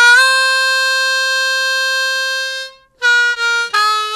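Harmonica lick: one long sustained draw note fading out, a short gap, then a quick run of separate bent and drawn notes, played alone and close.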